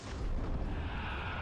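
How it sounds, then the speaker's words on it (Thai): An explosion strike in the mobile game Seven Knights comes as a dense, continuous roaring rumble. It is fairly quiet overall and holds level without a distinct single bang. "ช็อตนี้บึ้มเข้าไป"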